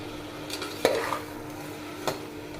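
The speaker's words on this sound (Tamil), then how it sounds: "மீடியம் ஃப்ளேம்லேயே வச்சு நல்லா வதக்கி விடுங்க." Tomatoes sauté in a pan over a medium flame with a soft, steady sizzle, broken by a few spoon scrapes and taps as they are stirred.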